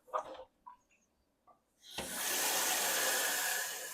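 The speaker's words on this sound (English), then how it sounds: "Just going to kind of slosh some water around, dump it off into the sink." Water is poured out into a kitchen sink during brisket prep, a steady close splashing rush that starts after a few faint knocks and clunks.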